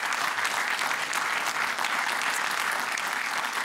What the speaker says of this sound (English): Would you please give them all a round of applause?